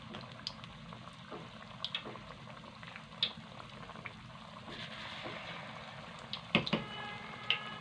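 Small desi-style beef pakoras fry in hot oil, a quiet, close bubbling and gentle sizzle with scattered sharp pops and crackles.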